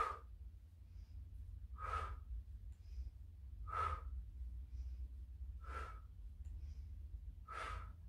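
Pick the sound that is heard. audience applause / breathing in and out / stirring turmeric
breathing in and out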